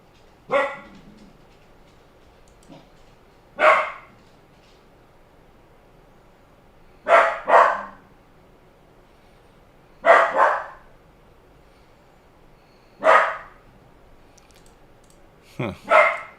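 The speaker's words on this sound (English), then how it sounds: "Max is barking." A dog named Max barks nearby in short, sharp bursts, some single and some doubled, roughly nine barks with quiet gaps between them.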